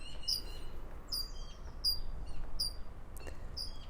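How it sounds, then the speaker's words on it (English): A bird sings from a pear tree in a garden, giving a series of short, bright, high chirps repeated at a regular pace about once a second over a faint, quiet background. "I don't know what bird that is singing, but it's in the pear tree now."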